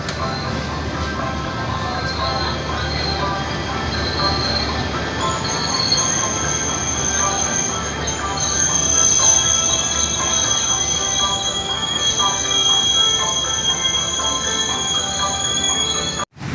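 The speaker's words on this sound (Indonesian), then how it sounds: "sudah masuk kereta api Tawang Alun dari stasiun Ketapang yang akan menuju stasiun Malang" The Tawang Alun passenger train rolls steadily into a station in East Java with continuous rumble and high metallic wheel squeals, loud and close throughout, ending abruptly.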